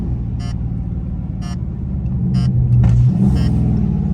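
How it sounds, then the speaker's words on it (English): A Scat Pack car engine rumbles steadily with deep exhaust burbling while driven aggressively, swelling louder toward the end, with sharp crackling pops recurring roughly once a second. "You guys hear the freaking burbles?"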